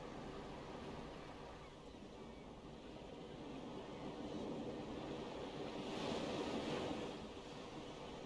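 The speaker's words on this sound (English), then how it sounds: "you've got the effects that have been added by Pro Mods for the waves coming onto the shore" Waves rolling onto the shore in Euro Truck Simulator 2 with Pro Mods effects, a soft continuous surf wash that swells slightly near the end, faint and alone.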